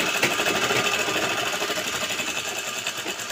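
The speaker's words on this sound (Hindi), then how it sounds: "सिलाई चला दीजिए।" A sewing machine runs steadily while stitching a kurta pocket, a close, loud, fast rhythmic chatter of the needle that carries on without a break.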